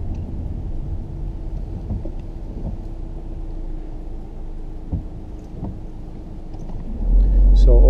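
VW Sharan with a 2-litre TDI diesel engine pulling away, a low steady engine rumble heard from inside the cabin, swelling louder near the end as it accelerates.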